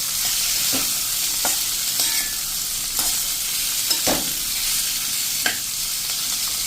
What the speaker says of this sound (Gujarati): આ રીતે આપણે મિક્સ કરીને આપણે બધા ટીંડોળાના તેલથી કોટિંગ કરી લેશું